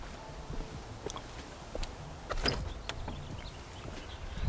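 The entry door of a modern Los Angeles mansion opens with a few sharp latch clicks and soft knocks, close by, over a low room hum and no talk.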